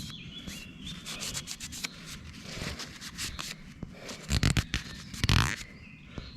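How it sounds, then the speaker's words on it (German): A cloth rubbed along a knife blade to wipe off tree resin, including the cutting edge: a run of quick, close rubbing and scraping strokes, soft at first and then a few louder, firmer swipes near the end, with no talking. "Und jetzt wische ich das einfach mit dem Tuch ab."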